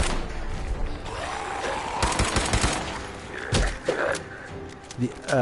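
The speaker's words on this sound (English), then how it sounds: "Let's just see if we can just shoot them." Gunfire in the video game Fallout 4 comes as bursts of sharp shots clustered in the middle, with thuds and other game effects, loud and close, while a person keeps talking over the action.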